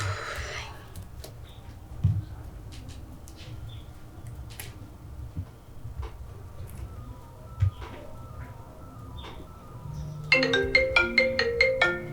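A phone ringtone for an incoming call starts near the end, a loud run of repeated electronic melody beeps over a low background hum, following quieter ambient sound.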